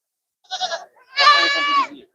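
Two Barbari goat bleats close by at a livestock show, a short one followed by a longer wavering bleat.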